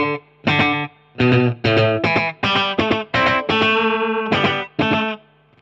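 Electric guitar lick played through a micro amp with digital delay and Holy Grail reverb, a series of sharp, distorted note bursts with short gaps, ringing tails and a final sustained phrase, loud and alone.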